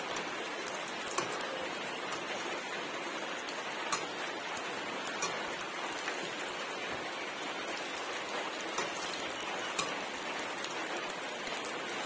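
Pointed gourd (potol) slices fry in a pan, a soft, even crackle and patter of hot oil continuing steadily without speech.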